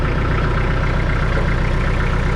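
Tractor engine idling just after being started, a loud, close, steady low chugging with an even rapid pulse and no talking.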